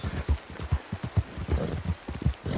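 Horse hooves beat out a quick, uneven clip-clop in the Red Dead Redemption 2 video game, close and moderately loud, running without pause and with no speech.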